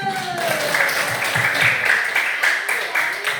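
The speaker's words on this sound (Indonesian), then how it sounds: "Tepuk tangan dulu." Classroom pupils clapping hands together at a teacher's prompt, a loud dense burst of claps with children's voices and chatter mixed in, close and lively.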